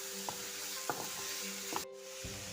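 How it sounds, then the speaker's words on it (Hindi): Capsicum, onions and green chillies frying with masala in a pan, a soft steady sizzle broken by a few spoon taps and stirring scrapes, fairly quiet and close, ending with a brief clatter. "ये हमारी शिमला मिर्चें, प्याज और हरी मिर्चें हमने भून लेंगे इन्हें अच्छी तरह से मसाले अपने ब्राउन प्याज में"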